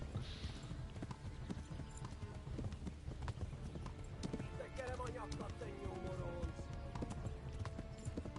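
A horse clip-clops steadily at close range in Kingdom Come: Deliverance, its rapid hoofbeats running throughout, with faint voices and ambient game sounds underneath.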